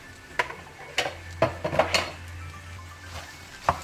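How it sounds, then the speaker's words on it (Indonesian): Fried rice is stirred in a wok, with a string of sharp metal scrapes and clanks from the spatula at an uneven rhythm over a low background hum and faint sizzle, close and alone. "Kita aduk kembali"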